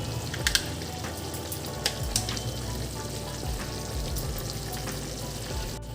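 Ginger garlic paste and tomatoes fry in a pan for dhaba-style kadai chicken, a steady moderate sizzle broken by a few sharp spatters and spoon clicks near the start.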